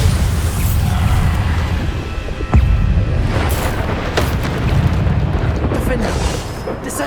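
Bombarda spell blasts in the wizarding action game Hogwarts Legacy, a dense rumbling explosion sound with a sharp impact near the middle, over continuous combat noise and a shouted spell name.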